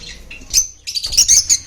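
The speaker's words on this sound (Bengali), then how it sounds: "বদ্রি পেয়ারটা খুব সুন্দর পেয়ারটা আছে দেখুন" A pair of budgerigars in a bird sale shop chirping up close, a loud busy run of sharp twittering notes and squeaks with brief gaps between bursts.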